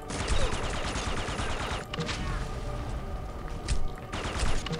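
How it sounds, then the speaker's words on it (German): Rapid bursts of weapon fire and explosions crackle loudly in Red Faction 2, with dense repeated blasts in several waves and short lulls between them. "Leute, ich hasse das, wenn ihr mich mit Granaten beschießt"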